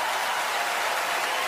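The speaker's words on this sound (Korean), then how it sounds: "그리고 기립박수가 나오죠." A steady, dense wash of clapping from a large audience rising in a standing ovation at an award ceremony honouring director Bong Joon-ho, sustained and even throughout, heard at some distance and fairly faint, with no voices standing out.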